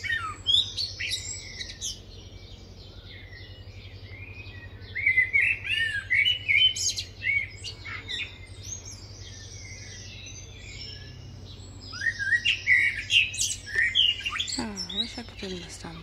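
A blackbird sings in fluting, varied phrases, with bursts around the start, middle and end and quiet gaps between, set against a low steady hum.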